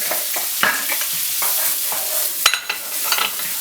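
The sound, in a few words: sautéing onions and garlic in butter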